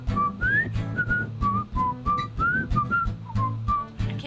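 A person whistles a lively tune alone, bright short phrases rising and falling in a quick, bouncy rhythm close to the listener.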